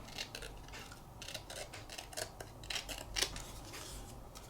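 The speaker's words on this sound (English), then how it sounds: "I'm going to cut this down a little bit." Scissors snip through paper while trimming a die-cut embellishment for a junk journal, giving several faint, crisp cuts spread unevenly over a quiet background.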